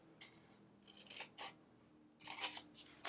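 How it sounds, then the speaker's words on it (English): Scissors snip through card or paper on a Valentine's box being cut at an angle, several short crisp cuts in uneven rhythm with quiet pauses between, close and fairly soft. "Remember to always cut at an angle here"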